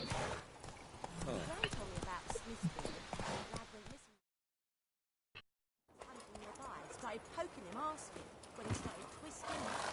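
Horse hooves clip-clop in The Witcher 3 video game, a close, rhythmic trot mixed with game sounds, broken by a brief silent gap midway.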